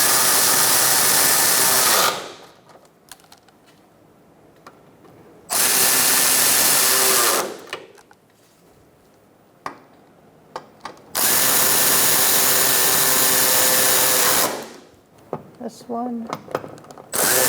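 A power tool tightens the cooling fan assembly bolts on a 2014-2019 Kia Soul 1.6L four-cylinder, running in three loud, steady bursts of about two to three seconds each, with quiet gaps and brief talk between them.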